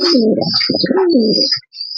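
Close, loud racing pigeons cooing in repeated throaty phrases, with a thin high chirp above, a short pause near the end.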